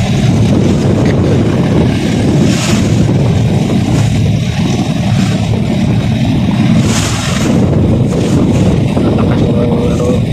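A motorized outrigger boat (bangka) travels on open water on the way to Iloilo, its engine drone steady and loud under heavy wind buffeting, with faint voices now and then.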